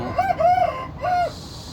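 A Burmese rooster crows close and loud, a short broken call in two bursts, with no other sound around it.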